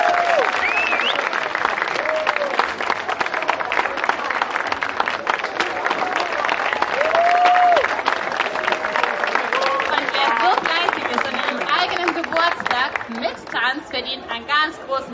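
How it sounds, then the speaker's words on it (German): A crowd at the Porzer Inselfest applauds loudly and steadily for about fifteen seconds, a dense wash of clapping with some voices and cheers mixed in, thinning toward the end. "verdient einen ganz großen Applaus"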